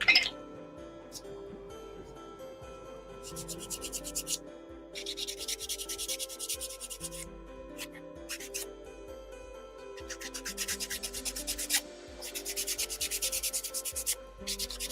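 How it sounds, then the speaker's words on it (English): A Chalk Couture Americana gnome craft piece having its edges sanded by hand: close, scratchy rubbing strokes come in several bursts with short pauses between passes. "I think I want to sand the edges after all that work."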